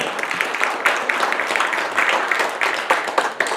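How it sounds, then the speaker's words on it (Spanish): A church congregation applauds during a sermon, a crowd of hands clapping steadily and close for several seconds with no talk over it. "Denle un aplauso al Señor, hermano"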